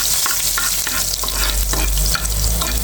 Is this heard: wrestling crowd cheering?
no